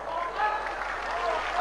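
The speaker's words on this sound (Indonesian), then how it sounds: "Tepuk tangan melulu. Emang gak capek tepuk tangan terus?" An audience at an Islamic sermon claps in a dense, continuous patter while speech carries on over the applause.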